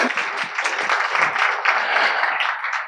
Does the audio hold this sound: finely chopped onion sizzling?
no